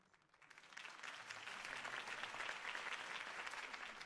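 Crowd applause at a campaign rally in the Telltale Batman video game, swelling in after a quiet start and holding as a steady, dense roar of clapping without speech.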